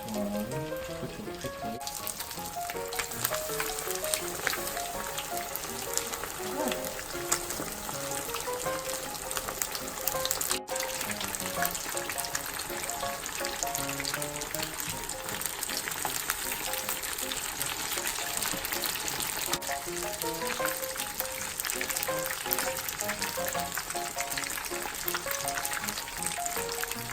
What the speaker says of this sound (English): then go to the frying